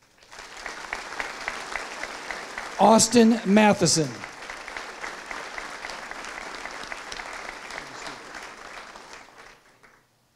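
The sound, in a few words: graduation audience applauding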